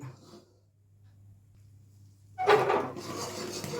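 Mysore pak mixture stirred in a pan, heard as a soft rubbing and scraping that starts after a quiet stretch and continues steadily for the last second or so, with a low steady hum underneath.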